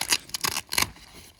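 Velcro fastener on the rainfly of a CORE Equipment 10-person tent being pulled apart, several short, close ripping bursts in quick succession with brief pauses between them.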